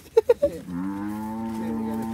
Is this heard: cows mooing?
yes